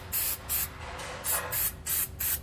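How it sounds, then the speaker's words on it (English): Penetrating oil hisses from an aerosol can onto the U-bolt nuts of a 2009 Workhorse W-Series Roadmaster chassis in five short, close, even bursts. "We want to go ahead and spray down all of our nuts now because we're going to be removing them."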